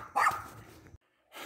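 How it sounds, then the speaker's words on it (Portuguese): A dog barks in a short, loud burst, goes quiet for a moment, then starts barking again, with no voices heard. "Seu cachorro tá louco hoje."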